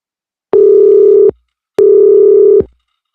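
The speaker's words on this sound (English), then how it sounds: "Let me call him back." A phone call ringing out while dialing someone back: two steady electronic ringback tones, each under a second long, separated by a short silence, loud and close with no voices.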